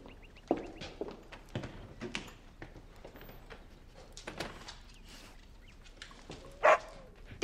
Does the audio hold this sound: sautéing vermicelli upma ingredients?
no